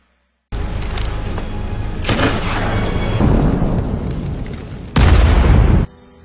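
A boat blown up by a single gunshot out at sea in a film scene: loud booming explosion bursts with rumbling fire and debris, a second heavy blast near the end before cutting off.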